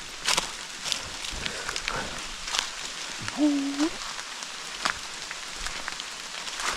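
Rain falls steadily on surfaces outdoors on a hunting trip, a dense hiss with scattered louder drops and taps, and a brief voiced sound partway through.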